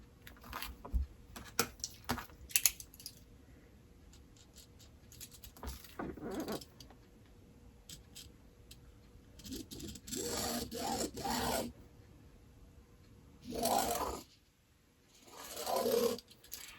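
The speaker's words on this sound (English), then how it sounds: "I'm just going to draw a line right down the middle first" Marker or pencil drawn along a ruler down the middle of quilt fabric, a few faint, brief scratchy strokes separated by quiet gaps.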